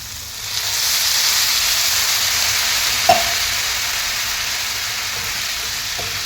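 A steady, loud sizzle and hiss from a hot pan as water hits it, with a brief clink partway through.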